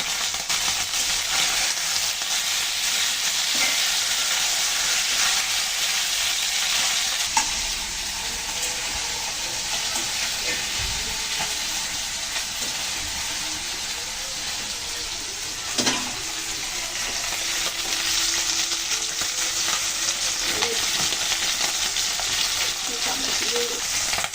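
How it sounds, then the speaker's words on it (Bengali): Bain eel fish frying in a pan as a first light fry for a bhuna with potatoes, a steady close hiss of oil running throughout with a few brief clatters and stirring touches. "মাছগুলো তো হালকাভাবে ভেজে নিলাম"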